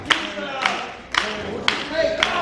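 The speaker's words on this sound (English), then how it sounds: "You hear the fans at ringside clapping, getting behind Gorgeous JC and Team G.A.Y." Ringside fans at a wrestling match clapping in loose bursts, several sharp rounds of claps spaced across a couple of seconds, fairly close and loud over a murmuring crowd.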